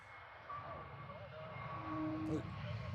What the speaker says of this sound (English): That is an A321neo of Swiss, I think from Hamburg